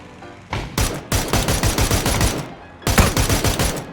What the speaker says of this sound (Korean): 저놈 저거 샷건을 쏘고 있는지